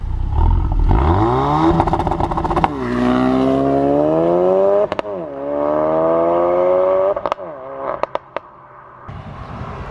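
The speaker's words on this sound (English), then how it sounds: "Right, so time to do launch control." A 2017 Ford Focus RS launching hard on launch control, its engine bogging at a held rev, then climbing loud and steady through rising gears with sharp shift cracks and pops between them.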